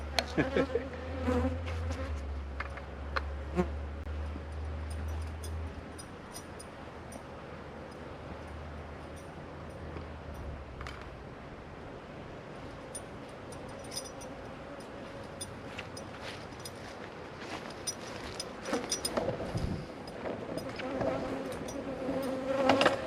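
Honey bees swarm around an opened hive in winter during dry feeding, a steady, dense buzzing hum with individual bees zipping close by, plus low rumbles and brief handling noises.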